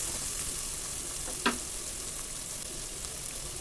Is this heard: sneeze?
no